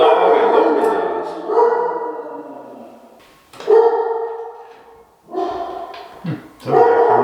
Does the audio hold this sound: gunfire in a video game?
no